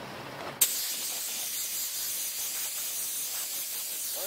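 An ARB onboard air system on a Jeep Wrangler releases air through its stock hose, a sudden burst followed by a steady, close, continuous hiss that lasts to the end.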